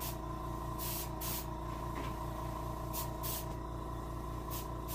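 Airbrush spray painting a brown bullhead catfish mount for taxidermy: steady broadband hiss in several bursts close by, over a constant low compressor hum.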